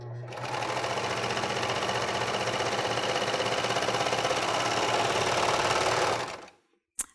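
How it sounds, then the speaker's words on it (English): A serger sewing machine stitches fabric in one continuous run, a fast, steady mechanical whir with a rapid rhythmic chatter, close and loud, that winds down and stops near the end before a single small click. "So let's sew it now."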